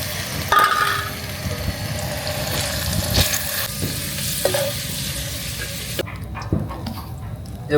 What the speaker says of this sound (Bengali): এবার কড়াইতে দিয়ে দেব সরিষার তেল।